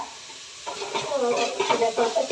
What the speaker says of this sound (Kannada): ಈರುಳ್ಳಿ ಬಂದು ಚೆನ್ನಾಗಿ ಫ್ರೈ ಮಾಡ್ಕೊಳ್ಳೋದು